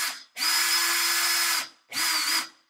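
A cheap Temu cutting tool spins up against a piece of aluminum in two bursts, a loud high-pitched whine holding for about a second, cutting off, then starting again briefly.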